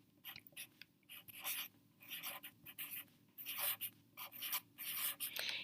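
A pen or pencil writes a number by hand in short, close scratchy strokes with brief pauses between them, quiet and alone over faint background hum.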